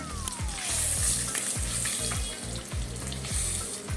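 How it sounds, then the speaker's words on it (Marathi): Boiled eggs frying in oil in a pan for dhaba-style anda masala, a loud continuous sizzle with rhythmic low thumps and scrapes of stirring throughout. "दोन्ही बाजूनी अंडी चांगली फ्राय करून घ्यायची"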